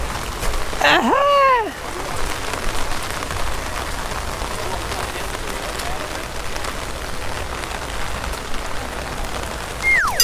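Rain falls steadily at Tokyo DisneySea, a constant close hiss of drops on surfaces, with a couple of brief squeaky chirps near the start and at the end.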